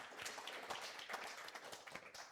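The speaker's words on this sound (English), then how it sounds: "let's all, if we could, just give our panelists a round of applause" Applause from an event audience for a panel of speakers at a business technology forum, a scattered, fairly quiet patter of hand claps with no voices over it.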